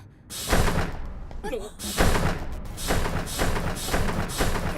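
A train door in the anime film Persona 3 The Movie slams and bangs repeatedly, giving loud, heavy thuds in an irregular rhythm, with other effects and voice sounds mixed among them.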